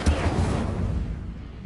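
A fire spell cast in a Harry Potter wizarding game erupts as a loud, close whoosh and rumble of flames, strongest at the start and trailing off over under two seconds.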